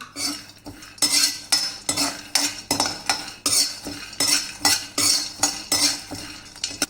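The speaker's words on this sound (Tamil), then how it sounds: "பிஸ்தா வந்து நம்ம இப்போ வறுக்க போகிறோம்" Pistachios dry-roasting in a pan are stirred with a utensil, giving rhythmic scraping and rattling strokes about once or twice a second, close and distinct, with no talk.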